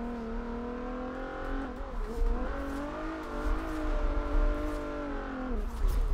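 A car drifting down a mountain road in Forza Horizon 4, its engine revving and holding high, shifting pitch, with brief dips between gears and tires squealing through the slides, heard alone without talk.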